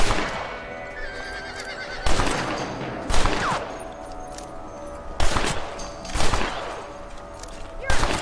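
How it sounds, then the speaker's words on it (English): Gunshots crack out in a Western action game during a rabbit hunt on horseback, six or so loud, sharp reports spaced about a second apart, with a horse whinnying and hooves clopping between the shots. "You're better at shooting rabbits than outlaws, I see."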